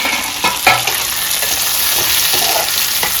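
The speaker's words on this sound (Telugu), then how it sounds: "టమోటా వేసిన తర్వాత మసాలాలన్నీ వేసేసుకుని వేయించేసుకోవాలి ఒకసారి" Loud, steady frying sizzle of tomato and spices in a pan, with occasional scraping clicks of stirring breaking through the crackle.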